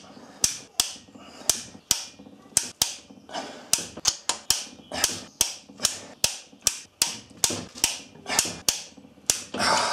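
A torque wrench tightening the cylinder head bolts of a Honda B18 engine makes a rapid run of sharp, close ratcheting clicks in repeated bursts, with no voices over it.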